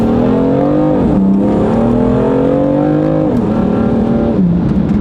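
A BMW F82 M4 engine drones loudly and steadily as the car drives on a freezing 26-degree day, pitch climbing through gears and dipping at each shift, close and continuous with no talk.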